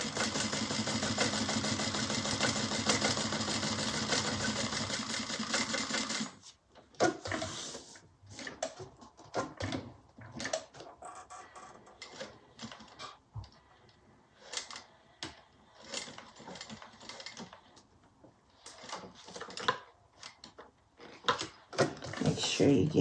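A sewing machine stitches around fabric at a small stitch length, giving a steady dense mechanical whir for several seconds before stopping, followed by scattered quiet clicks and handling noises.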